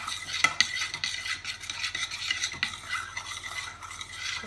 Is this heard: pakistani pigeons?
no